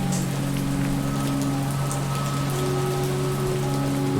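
Steady rain falls at a graveside, a dense, even patter on surfaces close by, with a faint low hum running underneath.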